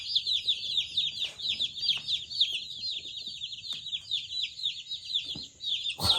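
Chicks and chickens at close range, the chicks peeping continuously in a high, rapid chatter with occasional lower clucks and soft shuffling underneath, no voices.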